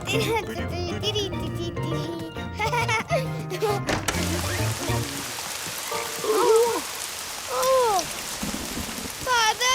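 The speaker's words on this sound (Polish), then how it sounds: "deszcz!" Steady rain patters throughout, with a music-like passage at the start and cartoonish vocal sounds and squeaks over the downpour.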